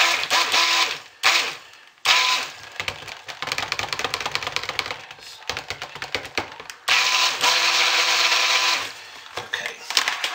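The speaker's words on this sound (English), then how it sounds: "I'm hitting it hard with the stick blend because I want it to set up quickly" A stick blender churning soap batter scented with chocolate and lavender fragrance runs in loud, buzzing motorized bursts, cutting off briefly several times before starting up again close by.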